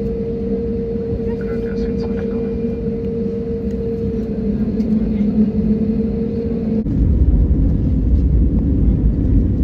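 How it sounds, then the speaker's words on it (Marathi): A jet airliner departing Mumbai for Guwahati roars steadily from inside the cabin, a broad engine drone with a tonal whine that shifts abruptly to a deeper, louder rumble partway through. "विमानाने आकाशात झेप घेतलेली आहे"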